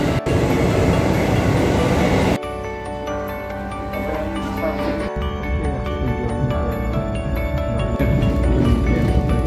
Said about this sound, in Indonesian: kereta api tujuan Bandung